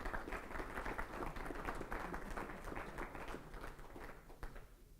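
A conference audience at a networking talk applauds, a sustained patter of many hands clapping from a seated crowd that fades slightly toward the end, heard without speech.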